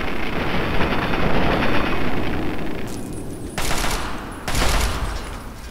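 Rapid bursts of heavy automatic turret gunfire in Fallout 3 roar continuously, cutting out and restarting in a few sharp breaks near the end.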